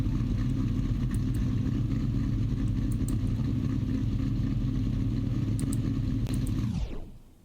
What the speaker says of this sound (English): So I turned the engine off.